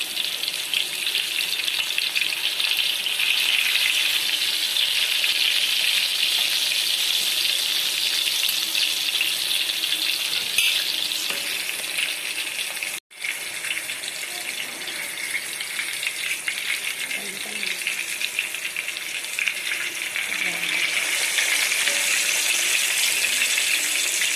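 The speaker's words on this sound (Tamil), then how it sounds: "மீனை தோசைக்கல்ல போட்டதுக்கு அப்புறம் ஸ்டவ்வை சிம்ல வச்சிருங்க. இப்போ மீனை நம்ம திருப்பி விட்டுடலாம்." Vanjaram fish frying on a dosa griddle over low flame, a dense continuous hiss and crackle of hot oil, close and steady throughout with a brief interruption midway.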